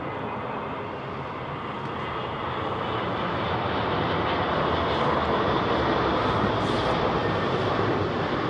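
A heavy airliner with a split rudder moving at London Heathrow gives a steady, broad jet roar that builds slightly and holds loud and close, with no talk over it.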